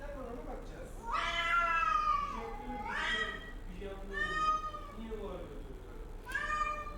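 A cat at the vet protests with several loud, drawn-out, wailing meows in close succession, some rising and falling, heard near and clear over faint background noise.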